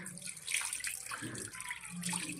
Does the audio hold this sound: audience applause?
no